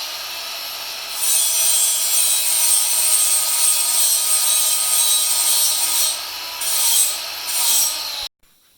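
A Milwaukee power tool grinds material off an RB25/30 stroker crankshaft, a steady loud abrasive whine running for about seven seconds with brief surges near the end before cutting off.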